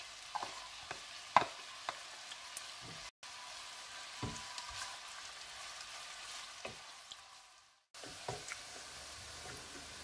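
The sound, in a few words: garlic and other ingredients sizzling while frying in a pan for spaghetti carbonara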